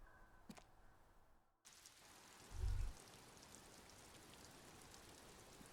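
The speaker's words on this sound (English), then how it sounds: "it's raining." Rain falling in the Disco Elysium video game, a soft steady hiss of drops on surfaces that fades in after a brief hush and a low thump, then continues evenly and faintly.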